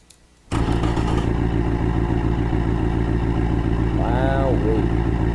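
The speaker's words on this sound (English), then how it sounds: "Alright, let's give this baby a start." Simulated car engine in the game Automation, a V-type unit making 289 horsepower, cranks to life after a moment of quiet and settles into a loud, steady, lumpy idle; a brief voice-like chirp rises partway through.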